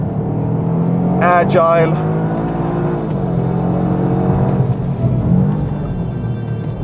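Toyota GR Yaris with a 280 horsepower engine on a tight, twisty race track, loud and close, rising and falling between shifts on Michelin Pilot Sport 4S tires, with someone speaking briefly over it.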